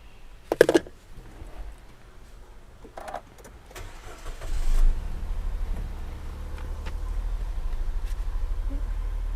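A 2015 Nissan Almera 1.2 VL Sportech automatic starts by push-button with a remote key: a couple of sharp clicks, then the engine catches at about five seconds and settles into a steady low idle.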